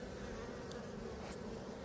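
Honeybees buzz steadily at a wild swarm hive in Fontenailles, a close, continuous drone with no talk over it.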